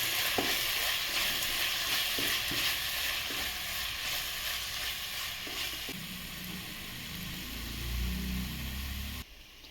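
Salt, chili powder and mint being stirred into a sizzling pan for a chicken curry, a steady fry hiss with scraping strokes of the spoon, close and continuous, then a brief lower bubbling toward the end.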